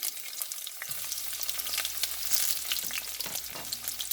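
Onions go into hot oil for an egg masala, and a loud, hissing sizzle bursts up about a second in, then crackles steadily up close with no voices.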